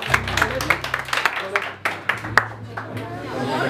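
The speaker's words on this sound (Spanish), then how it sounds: "aplauso para él." Scattered hand claps at a birthday party with a youth mariachi band, sounding as irregular sharp claps over a low sustained tone, moderately quiet and unevenly spaced.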